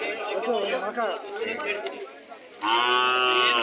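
People chatter at a cattle market, then a cow lets out one loud, long moo close by, holding a steady low drone for about a second.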